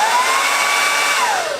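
A hairdryer runs steadily and loud for a short burst, a breathy whooshing blow with a faint whining tone that slides downward near the end; no voices.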